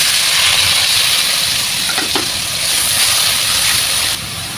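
A paste of ground onion, garlic, cumin and cinnamon frying in a pan gives a constant close hiss and sizzle, with a brief scrape near the middle and a slight drop in level at the end, no voices.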